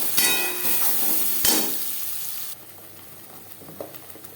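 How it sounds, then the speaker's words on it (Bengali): Spice paste of tomato, onion, garlic, chilli and ginger hits hot oil left from frying fish, two loud sizzling bursts that fade into a softer, steady crackle with faint stirring. "মাছ ভেজে নেওয়া তেলে দিয়ে দেব মশলার পেস্ট।"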